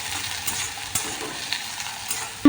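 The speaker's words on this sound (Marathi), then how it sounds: "आता मंद आचेवर भाजून घ्यायचं हे सगळं ॲलोवेरा" Aloe vera and leaves roasting in a pan over a low flame give a steady, moderate sizzle with soft stirring scrapes and a few small clicks from the utensil, and no one talks.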